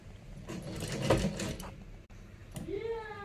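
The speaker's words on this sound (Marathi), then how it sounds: "असं छान गोल आकारामध्ये आपल्याला इथे शिलाई मारून घ्यायची आहे" A sewing machine runs in short bursts while stitching round neck piping on a blouse, the motor whirring close by under a voice, then stopping before a brief rising mechanical tone.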